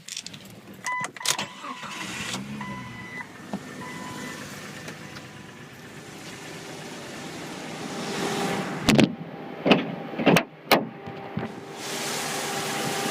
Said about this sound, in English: I'm going to go ahead and start the truck up for you.